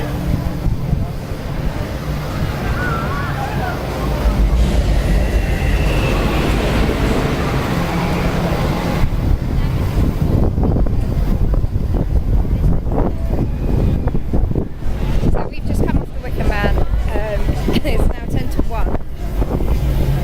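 Wicker Man, a wooden roller coaster at Alton Towers, roars through a loud, steady ride with rattling track clatter, heavy wind rush and rider voices throughout, growing rougher and more rattly near the end.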